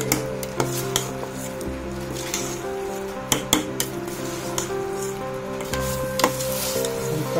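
Fried potato and jackfruit pieces with spices sizzle in a hot pan while a spoon stirs and scrapes, giving repeated clinks and clatters against the metal over continuous frying hiss.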